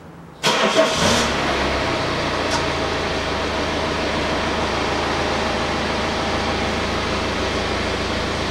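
A BMW X3 xDrive 20d F25 diesel engine cranks and catches with a sharp burst, then settles into a steady, close idle hum that runs on without talk.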